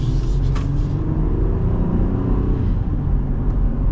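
A 2024 Jeep Gladiator with a V6 rolls over small bumps, giving a steady, loud low road rumble and engine drone from inside the cab with no talking.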